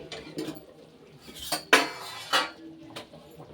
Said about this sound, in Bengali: দেখুন ঢাকাটা খুলছি।